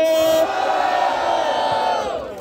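Rap battle crowd roaring and yelling together, a loud sustained wall of voices with a shouted high cry over it at the start, staying dense before easing slightly at the end.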